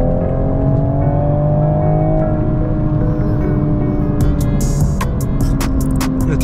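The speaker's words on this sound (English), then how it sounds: "The turbo noise in here" A turbocharged sports car engine accelerates, heard from inside the cabin as a loud, steady engine drone that climbs gently in pitch, with a few sharp ticks and pops near the end.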